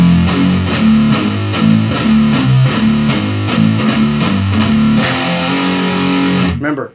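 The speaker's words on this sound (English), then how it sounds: "And you're looking for that mute, that palm mute." Distorted electric guitar plays a tight palm-muted riff, chugging steady muted notes with a few sharp accents, close and loud, then cut off abruptly.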